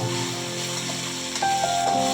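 Curry leaves and chopped green chillies frying in hot oil for sooji upma, a close, steady sizzle with faint hiss throughout the short moment.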